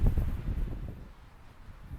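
Wind gusting across an open farm field during metal detecting, a steady low rumble of buffeting against the microphone, strongest at first and easing slightly, with no talking.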